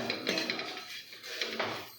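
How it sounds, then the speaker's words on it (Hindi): Metal spoon scraping and clinking in a pan while fried okra (bhindi) is stirred at home, a few soft close scrapes and taps with a brighter clink at the end. "बस थोड़ा सा इसे मिक्स कर लेंगे और यहाँ पे हमारी भिंडी रेडी हो गई है"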